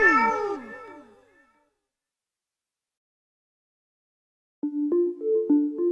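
A cat meows loudly with a wavering, drawn-out call, then after a few seconds of silence a different, shorter tonal sound follows.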